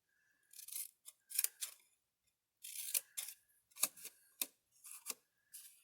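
Scissors snip through paper to cut out a small triangle for a Candyland candy holder, a series of quiet, crisp cuts in short bursts separated by brief pauses, with no other sound.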